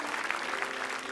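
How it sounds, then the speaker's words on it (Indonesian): A studio audience at an Indonesian comedy talk show breaks into steady, dense applause, clapping evenly throughout the brief moment. "Itu Pak Denny, tepuk tangan."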